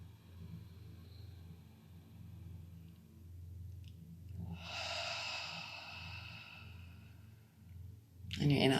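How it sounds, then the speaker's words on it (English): Deep, slow breathing during a guided breathwork session, soft rhythmic inhales and exhales under faint ambient music, with one longer, louder breath swelling in the middle. "Keep breathing."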